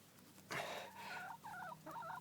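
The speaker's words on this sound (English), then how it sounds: "that's a very loquacious chicken." A chicken clucks and squawks nearby, starting with one loud burst and followed by a run of rhythmic, throaty calls, heard alone with no talking.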